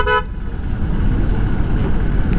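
A car horn gives a short, loud toot at the very start, then stops. Steady road and engine rumble continues for the rest, with no talking.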